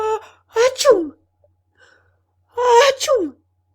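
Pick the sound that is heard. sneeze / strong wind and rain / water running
sneeze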